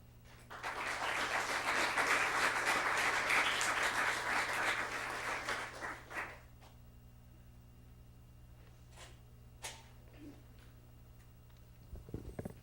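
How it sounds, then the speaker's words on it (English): A middle school oratorical competition audience gives a big round of applause, dense clapping filling the hall for about six seconds before fading to scattered claps and quiet room noise. "Let's give them one more giant round of applause"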